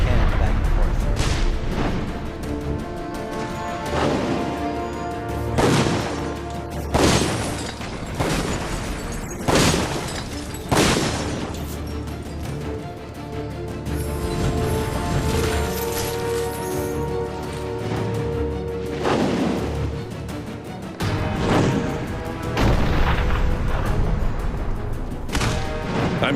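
Cannon fire and battle explosions from the video game Dungeon Siege III: repeated booming blasts at irregular intervals, loud and close, layered over a dense orchestral and combat soundscape.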